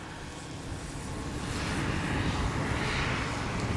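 A Hangar 9 Valiant 20cc RC airplane with a gas engine in a full aileron turn at about quarter throttle, a steady distant drone that slowly grows louder as it passes, with no talk.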